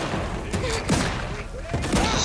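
Gunfire aimed at the player in The Outer Worlds 2, a rapid burst of shots and thuds with game effects, loud and near, mixed with other in-game sounds.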